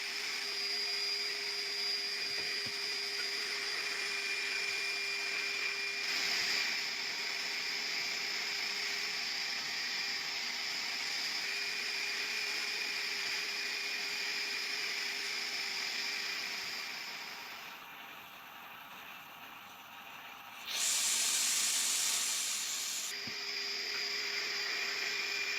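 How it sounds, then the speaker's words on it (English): Sandblasting with black corundum abrasive strips paint and rust from painted parts of a 1930s Peugeot hand-cranked coffee grinder, a steady hissing blast with a high whine, dipping briefly before a sharper burst near the end. "Next, he'll use sandblasting on the main painted parts to remove paint and rust."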